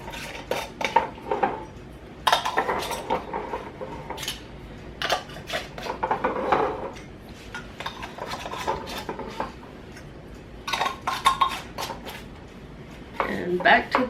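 Metal lids and screw bands clink and clatter onto jars of homemade tomato juice in a kitchen, in several bursts of close rattling and scraping between quieter moments.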